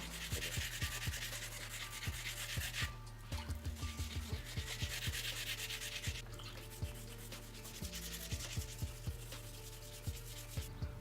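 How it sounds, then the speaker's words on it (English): A BMW E30 body panel is wet sanded by hand in quick, repeated rubbing strokes, the scratchy passes close and rhythmic with short pauses between bursts and no voices. "just gonna go ahead and wet sand this real quick"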